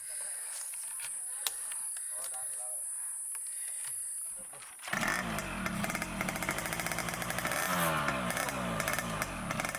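A motorcycle hauling a bamboo load on a muddy trail in Bangladesh, its engine quiet at first and then surging into a loud, rough, revving drone that continues close by with irregular throttle changes.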